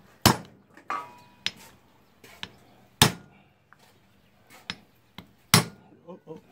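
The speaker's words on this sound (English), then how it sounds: "So I punched this in here so that that pin would never ever get out" A hammer punches a pin into a Power Trax no-slip locker inside a Toyota 8.4 differential. Several sharp, ringing metal strikes land at uneven intervals, close and distinct against a quiet shop background.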